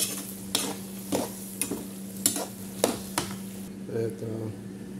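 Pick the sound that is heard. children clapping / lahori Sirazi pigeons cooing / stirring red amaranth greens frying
stirring red amaranth greens frying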